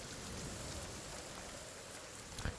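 Rain falling in the survival video game The Forest, a soft steady hiss of drops with a brief louder patter near the end, fairly quiet and with no talking.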